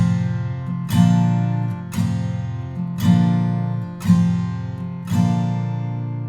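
Five strong strummed open chords on an acoustic guitar, the second line of a song, ring out about once per second, each chord decaying before the next, with no one talking.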